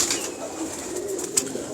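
A pigeon coos softly and steadily nearby in a brief, low, rolling call with no voices over it.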